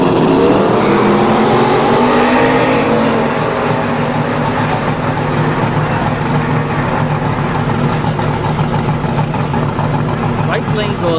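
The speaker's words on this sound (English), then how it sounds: "turbo SN95 Mustang versus a Tesla Model S Plaid" A turbocharged SN95 Mustang races a gutted Tesla Model S Plaid down a quarter-mile drag strip, a loud sustained engine roar with rising pitch sweeps, close and continuous, with a voice talking over it.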